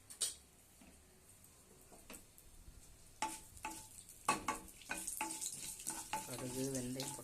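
Mustard and fenugreek seeds sizzle and crackle in hot oil in a kadai, faint at first then building into close popping and frying with clinks of a spoon.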